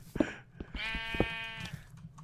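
Sheep bleating in the Minecraft video game: a clear, wavering bleat lasting about a second, up close, surrounded by short clicks and game noises.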